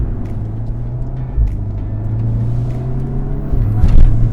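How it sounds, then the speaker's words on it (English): A modified VW Golf R engine running on the road while the gearbox downshifts, a loud close drone with a clear pitch change as the revs rise, and a brief blip near the end. "This downshift."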